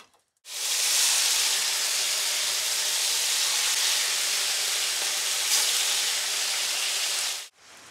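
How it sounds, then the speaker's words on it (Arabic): Shawarma meat dropped into a hot pan on high heat, setting off a loud, steady sizzle that holds evenly for about seven seconds before cutting off abruptly. "بننزل اللحمه على حراره عاليه"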